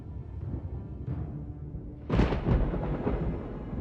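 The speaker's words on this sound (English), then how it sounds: "Thunder rumbled, and the wind was blowing up salt spray." A low, heavy rumble of thunder from a storm over a harbor rolls in and swells loudly partway through, with a deep background roar of wind.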